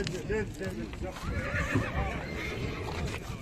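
A young male horse, a colt, neighs in loud rising and falling whinnies at a busy horse market, with hooves clopping and people talking close by throughout.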